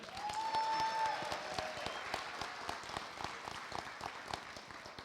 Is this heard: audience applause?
yes